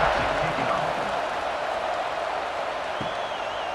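College football stadium crowd at Boston College versus Michigan State, a steady loud roar with scattered cheering and applause before kickoff, and no talk over it.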